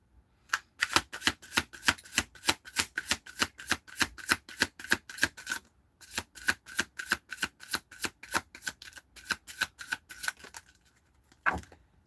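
Tarot cards are shuffled over and over in a quick, steady riffling rhythm close by, with a short pause midway and a soft thump at the end.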